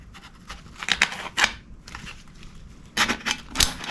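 A putty knife edge cutting open an aerosol can, giving a series of sharp, close scraping and crunching bursts in an irregular rhythm, with quiet gaps between strokes.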